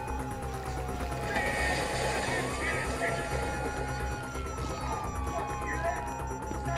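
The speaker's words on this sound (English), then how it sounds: "you hear that? Sirens!" Police sirens in Grand Theft Auto V on PlayStation 5, wailing and sweeping steadily above a dense bed of game noise, moderately loud and continuous.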